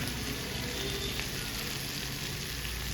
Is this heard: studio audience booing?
no